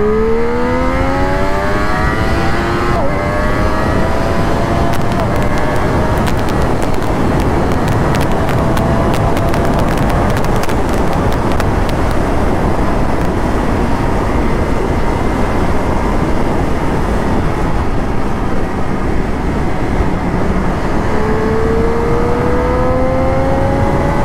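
A Triumph Daytona 675R motorcycle is ridden on an open road, its engine note climbing and falling through gears over a loud, continuous wind and road roar, heard up close without speech.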